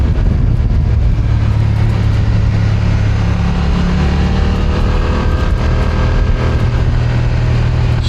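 A BMW F900R motorcycle being ridden gives a loud, steady engine drone close to the mic, with dense low rumble and rushing wind noise that hold constant throughout, no speech.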